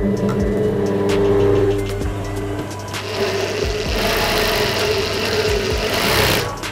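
A sewing machine stitches together cross-cut blouse fabric pieces, running with a fast, steady mechanical whir and rhythmic needle clatter, close and loud, slowing and restarting briefly midway.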